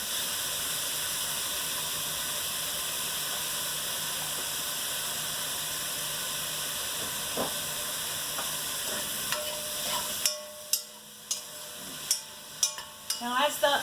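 Onions with a pinch of sugar soften and sizzle in a pot of zucchini soup, a continuous near hiss that later drops away into a few sharp clinks and scrapes of stirring.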